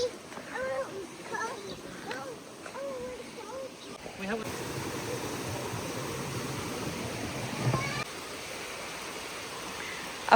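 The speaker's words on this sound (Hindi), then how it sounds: "I find the sound of water so calming." A stream flowing near Glencar Waterfall in Ireland, a continuous close rushing wash of water that grows louder partway through, with people talking over it at first.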